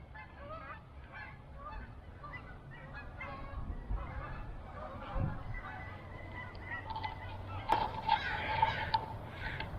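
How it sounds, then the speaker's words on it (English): Canada geese honk repeatedly in the distance over the Willamette River, a loose chorus of nasal calls over faint outdoor background noise. "the Canadian geese must be migrating"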